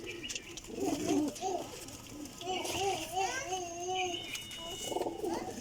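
Flying pigeons cooing in low rolling calls close by, mixed with children's voices and someone talking.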